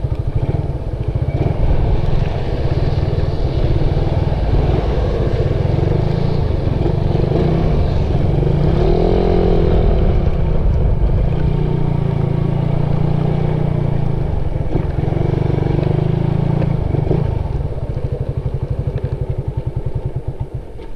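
A Suzuki Raider 150 motorcycle engine drones steadily and loud while being ridden in the rain, with a throaty rumble and small shifts in revs. It runs throughout with no talk.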